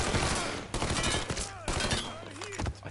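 Dense, continuous gunfire from Mafia 3, with overlapping bursts and shots filling the scene under a busy mix of other game sounds.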